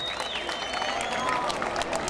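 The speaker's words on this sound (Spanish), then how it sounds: "el aplauso fuerte" Crowd applause at a rodeo ranch competition, a brief burst of clapping and cheering from spectators, loud and steady for about two seconds.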